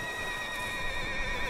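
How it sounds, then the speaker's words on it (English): A horse neighs in a Red Dead Redemption game scene, a steady whinnying cry with tonal layers holding for the full moment at moderate loudness, with no talking. "That's a horse out there fighting."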